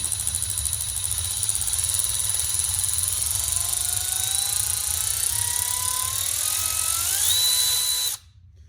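A Milwaukee M12 Fuel 3/8-inch cordless ratchet whirs close up, its whine climbing in pitch as the variable-speed trigger is squeezed harder, then cutting off abruptly near the end.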